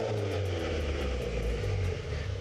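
A rear-wheel drive car's engine drones close and loud, holding a throaty, even pitch with a slight dip near the end and no talking over it.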